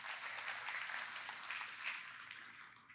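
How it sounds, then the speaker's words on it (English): Applause from an audience at a church staff gathering, steady and faint, a soft spread of clapping lasting a few seconds without voices over it. "Yeah, cheer for Mitch"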